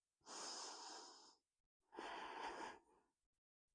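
Two slow, audible breaths, a long inhale or exhale followed by a second after a short pause, taken during a postural stretching exercise, close and fairly soft with no talking.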